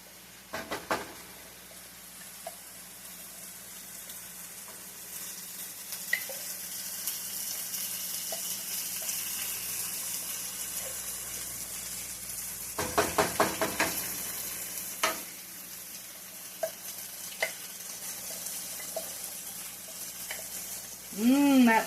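Bacon grease sizzles faintly in a pan on a home kitchen stove for cabbage stew, a soft steady hiss with scattered clinks and stirring, a louder cluster of bangs midway and a brief tap-water splash at the end.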